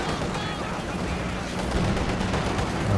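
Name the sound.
artillery barrage in video game Company of Heroes 2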